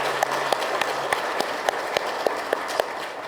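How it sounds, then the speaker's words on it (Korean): A large audience at a fire-industry policy briefing claps steadily, a dense wash of applause with a few louder individual claps standing out in a regular pattern throughout. "여러분들 박수 부탁드립니다"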